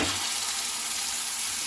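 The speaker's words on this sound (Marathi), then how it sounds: "2 ते 3 मिनिट आपण हा छान परतून घेणार आहोत." Ground masala for a water chestnut curry sautés in a hot pan, a brief, steady and bright frying hiss close by with no voices.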